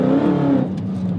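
An 800 hp Dodge Hellcat Challenger revs hard with its tires spinning, a loud throaty engine drone that drops in pitch partway through, close and alone without speech.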